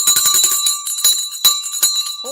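A stock market closing bell rings in a fast, repeated clang of bright metallic strikes, then slows to a few separate rings that trail off, loud and close with no talk over it.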